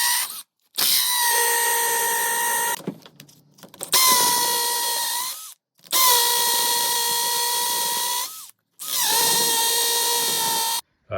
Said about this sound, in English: I'm gonna drill all the holes in all of them. I'm gonna make them deeper.